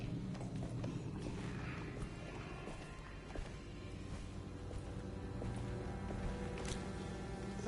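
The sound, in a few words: horse hooves clip-clop in video game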